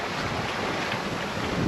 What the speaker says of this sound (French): le vent est remonté